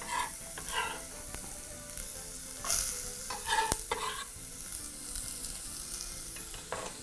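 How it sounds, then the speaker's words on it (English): Chopped onions sizzle in a pot for a beef casserole while a spoon stirs them, giving steady close frying hiss with several louder scrapes and clatters spread through the clip, no talking. "begin your cooking process by adding your onions first"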